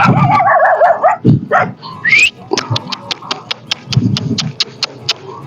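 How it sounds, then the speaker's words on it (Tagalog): Dogs bark and yip close by in a rural provincial village, a burst of whining and howling followed by a rapid run of sharp, evenly spaced barks. "Daming aso, guys."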